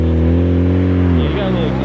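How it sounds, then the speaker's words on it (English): Nissan S13 car with an aftermarket exhaust revving, a loud, close, deep engine drone that rises in pitch toward the end, with voices talking over it. "Yeah, you got a little exhaust on it."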